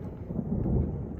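Thunder rumbling through a thunderstorm, a low, broad roll with steady rain hiss, moderately loud and uninterrupted by speech.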